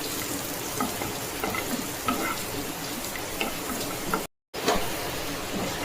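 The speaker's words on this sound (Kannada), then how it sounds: "ಕೊಬ್ಬರಿ ಎಲ್ಲ ಹುರ್ಕೊಳ್ತಾ ಇದೆ." Carrot and grated coconut dry-roasting in a pan for chutney powder, a soft continuous sizzle and crackle with scraping stir strokes at moderate distance, briefly cut to silence near the end.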